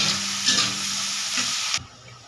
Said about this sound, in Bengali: এগুলো দিয়ে আমি নাড়তে থাকবো।